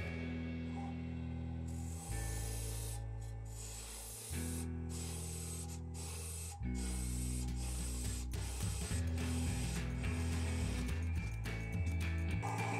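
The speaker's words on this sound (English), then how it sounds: "I'll use my parting tool for most of that." A wood lathe with a parting tool cuts into an end grain bowl, giving a steady, loud, continuous hiss and scrape with humming motor tones shifting as the cut changes, and no talk.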